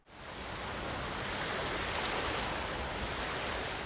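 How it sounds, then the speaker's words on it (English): Steady broadband wash of ocean waves crashing onto a coast as location ambience in the game PSO2, rising in over the first half second and then holding a continuous, even roar with no voices. "they added in ambience for the location you select, such as the waves crashing onto this coast."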